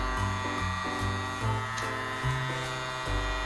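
Blower motor of a toy vacuum droid running, a steady electric buzz with a whining hum whose pitch shifts in steps every half second or so, close and continuous.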